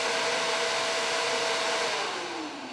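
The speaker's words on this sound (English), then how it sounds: "I wanna just test the thermostat there, make sure the fan goes on. So it indeed goes on." Electric radiator cooling fan on a converted MGA electric car, running as a steady close whirring rush that holds level, then slightly drops in pitch and volume toward the end.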